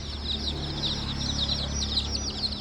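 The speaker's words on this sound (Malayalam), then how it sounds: "എന്താ നമ്മുടെ പഴയ കാലത്തെ കോഴി കുഞ്ഞാണ് ഇത്" Small chicks peeping and chirping in a quick, continuous stream, fairly near and moderate in volume, over a low steady hum.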